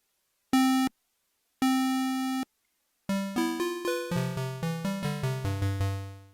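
A Mini Bear synthesizer plays a buzzy, hollow square wave tone: two sustained held notes separated by silence, then a quick run of rapid stepping notes that drop lower, loud and close with no talking.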